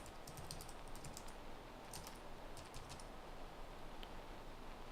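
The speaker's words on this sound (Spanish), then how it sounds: "digita entonces sus credenciales de acceso" Login credentials being typed on a computer keyboard, quick irregular clusters of soft key clicks with brief pauses, faint over a low steady background hiss.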